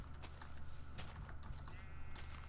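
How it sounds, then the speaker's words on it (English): Minecraft Alpha 1.2.5 redstone circuitry clicks off inside a mountain in the game, giving faint, quick, irregular mechanical ticks that sound like light typing over a quiet background. "you can probably hear it, the redstone clicking off"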